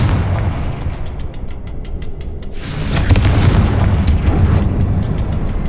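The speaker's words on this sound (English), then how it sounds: "Confringo! Above the cavern door." A Confringo spell from Hogwarts Legacy blasts near a goblin mine's cavern door, with deep rumbling booms and sharp crackling bursts around the midpoint and again shortly after, layered over a low steady game ambience; no speech.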